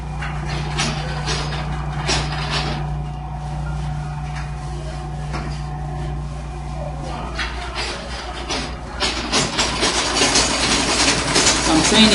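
A sewing machine stitches a long straight skirt hem down by half an inch, a steady mechanical whir with a low hum running throughout and growing slightly louder toward the end.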